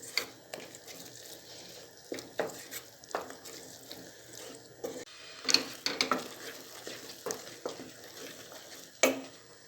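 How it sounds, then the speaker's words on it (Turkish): Tomatoes sizzle and are stirred in a pan with salt, red pepper flakes and dried mint. The soft frying hiss is broken by the clatter and scrape of a spoon, with occasional brief talk. "Tekrardan şöyle bir kavuralım"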